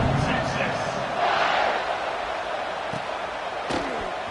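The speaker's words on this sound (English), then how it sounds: "this crowd is buzzing after that last score" Stadium crowd roaring and murmuring in an American football video game (Madden/NCAA) after a touchdown, a continuous distant buzz with a few swells, underneath a play-by-play commentator's voice.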